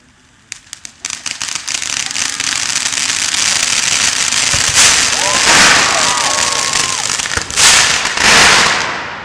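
A WECO Yin und Yang consumer firework from Lidl with a crackling effect: a few sharp pops lead into a dense, loud, sustained crackle that swells and fades over several seconds.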